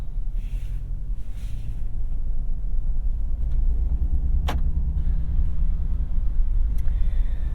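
A 2022 Land Rover Defender 90 with a V-8 pulls away and drives, giving a steady low engine and road rumble throughout with a faint click partway through and no talking.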